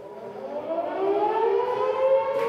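An air raid siren war sound effect wails steadily, its pitch slowly rising and the volume swelling, loud and continuous with no voices over it.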